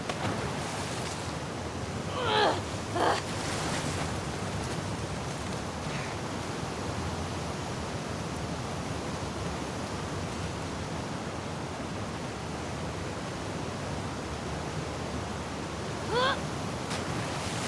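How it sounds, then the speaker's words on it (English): Ocean surf washes steadily in The Last of Us Part II, a broad, constant rush of waves with no clear individual breakers, with a few brief higher squeaks rising over it. "it remained in essence in the section swimming to the aquarium as Ellie when you were avoiding the waves"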